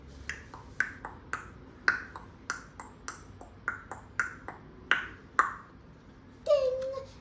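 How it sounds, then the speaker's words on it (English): A series of short, bright electronic dings for a correct answer repeat at a quick, steady pace, each one crisp and ringing briefly, ending with a longer sliding tone. "Ding! That's right."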